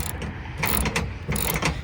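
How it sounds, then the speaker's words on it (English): A ratchet wrench turns a bolt while working on a kei truck, two bursts of rapid close metallic clicking separated by a short pause. "We've swapped off to this wrench, and oh my god, this thing was a game saver."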